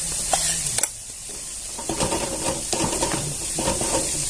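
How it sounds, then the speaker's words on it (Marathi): Chillies and onion frying in a pan for a wheat-bran vegetable dish, with a steady close sizzle broken by scraping stirs and a few sharp clinks of the spoon against the pan. "आता मिरची चांगली परतून घेऊया"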